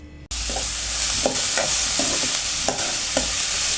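Onion, green chilli and ginger sizzle in a pan for a prawn roast. A loud, steady frying hiss is broken by several scraping stirs of a spatula.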